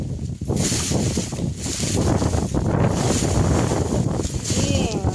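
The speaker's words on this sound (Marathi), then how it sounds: "वारं बी बघा किती भरा भरा भरा भरा वार सुटलं" Strong wind roars steadily against the microphone in a sorghum field during harvest, a heavy, continuous buffeting rush with gusts, and no other clear sounds.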